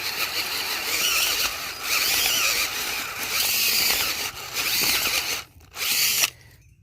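Cordless drill spinning a Blika 12-inch garden auger bit into soil and mulch, whirring and grinding in several loud bursts with brief pauses and stops near the end.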